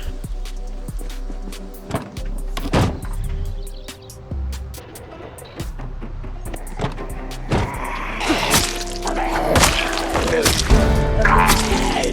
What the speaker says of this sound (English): we're gonna be driving the generator over to the gas station